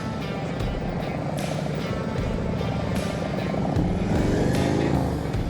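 A motorcycle engine runs with the throttle held up during a riding practice session, a loud, sustained buzzing drone that rises slightly toward the end, with a voice talking over it.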